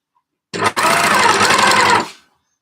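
A sewing machine stitches jersey fabric for joggers, close and loud, with a brief start, a tiny pause, then one steady run of rapid whirring for over a second before it stops.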